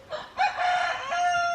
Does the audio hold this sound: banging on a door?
no